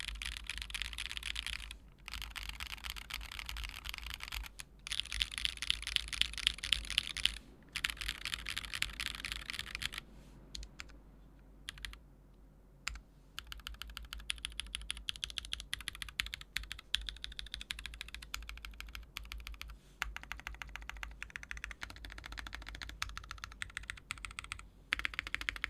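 Someone types steadily on a custom-built Mode 65 keyboard. Crisp, close keystrokes come in dense bursts, with brief pauses and a slower, quieter stretch partway through, over a faint low hum.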